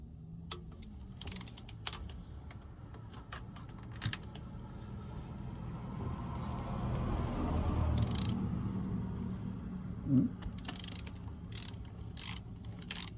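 A torque wrench ratchets as fasteners are tightened during spring service on a Malibu Wakesetter wakeboard boat, giving close, faint clicking bursts with a short clack near the end.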